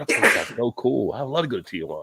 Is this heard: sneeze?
yes